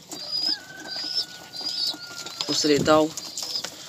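Pigeons at morning feeding, with a burst of wing flapping and soft cooing coming through a voice talking over the flock.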